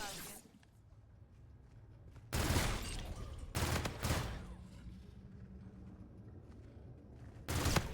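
Gunfire in Call of Duty Zombies on the Beast From Beyond map comes as three separate loud bursts: one at the start of the third second, one near the fourth, and a last one at the very end, with quieter game ambience between them.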